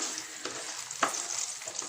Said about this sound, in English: While that is frying